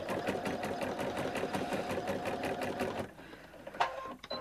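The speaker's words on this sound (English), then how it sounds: "I'm going to make it stitch at every stitch" A sewing machine with a ruffler attachment gathers fabric into a ruffle at every stitch, running as a loud, fast, steady mechanical chatter for about three seconds before stopping, followed by a few small clicks.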